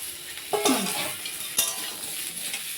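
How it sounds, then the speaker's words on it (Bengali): Mango pieces being stirred in a pan of hot spiced oil with five-spice tempering for a low-oil chutney, a steady sizzle broken by a couple of scraping stirs of the spoon, close and moderately loud. "আমটাকে কিছুক্ষণ একটু নাড়তে হবে।"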